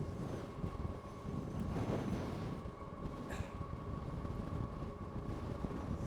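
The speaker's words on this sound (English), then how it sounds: "the wind is horrendous today" Strong gusting wind, about 35 mph, buffets a rider on a Philodo H8 AWD ebike, a loud continuous broadband roar with a steady low hum running through it, no voices.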